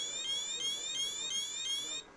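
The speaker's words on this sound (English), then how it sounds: "there is an alarm that goes off" A RadiaCode 103 radiation detector sounds its alarm as a steady, rapidly pulsing high electronic tone that runs for about two seconds and then stops abruptly.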